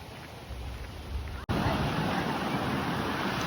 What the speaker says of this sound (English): now we hear falls and see people.